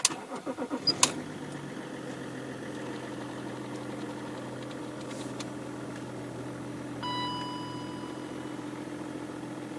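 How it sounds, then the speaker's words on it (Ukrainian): A 2002 BMW 530d diesel cranks with a quick series of starter pulses, catches and settles into a steady, even idle heard close up, with a faint whine appearing later. "Он машину сразу заводит, не тут."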